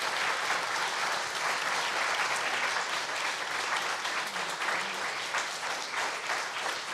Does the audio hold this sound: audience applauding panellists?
yes